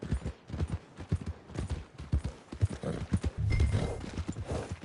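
Horse hooves clip-clop in a brisk, loud, close rhythm in the Red Dead Redemption game, with a heavier rumble of movement building toward the end.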